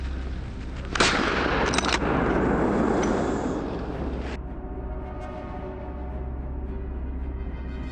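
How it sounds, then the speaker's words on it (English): A rifle shot during a wild boar hunt in a forest, a single sharp crack followed by a sustained broad roar and a fading outdoor tail. "A dry, sharp gunshot breaks the stillness."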